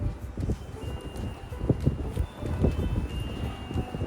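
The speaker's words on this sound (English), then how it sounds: "I don't even know if you can hear me with how windy it is." Gusty wind buffets the microphone outdoors in a garden, loud uneven rumbling bursts that rise and fall throughout, with no talking.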